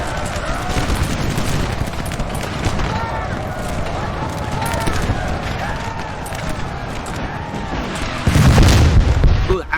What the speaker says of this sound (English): howitzers are going to start breaking troops here